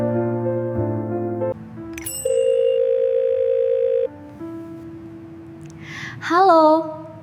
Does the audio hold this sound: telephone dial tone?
yes